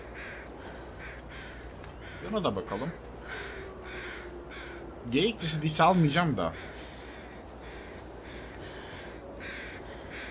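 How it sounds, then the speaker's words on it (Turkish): Crows cawing in The Long Dark, a wilderness survival game, with two short bursts of harsh calls, close and fairly loud, over a steady ambient bed while someone talks. "Kargalar nerede? İleride galiba,"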